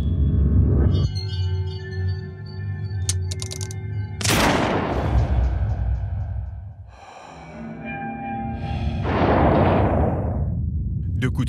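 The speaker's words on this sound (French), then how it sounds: "Deux coups de feu claquent." Two sharp gunshots ring out in a reenacted Paris police-car ambush, each a loud sudden crack with a decaying tail, a few seconds apart over a tense background.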